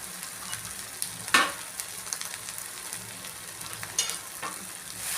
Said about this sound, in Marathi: पण आधी हा मसाला छान फ्राय करून घ्यायचा आहे आपल्याला